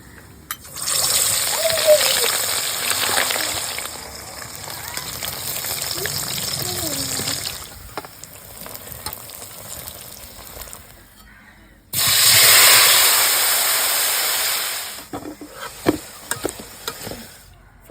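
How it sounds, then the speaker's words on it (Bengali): Rohu fish pieces coated in turmeric and salt fry in hot oil in a pan, a loud, steady sizzling hiss that runs for several seconds, drops away, then surges back strongly before tapering off. "এবার চলো মাছটা ভেজে নিই"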